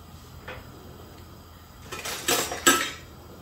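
Lardons scooped out of a pan with a metal skimmer in a home kitchen while cooking carbonnade, heard as a faint scrape early on, then a cluster of louder metallic clinks and scrapes near the end with no talking.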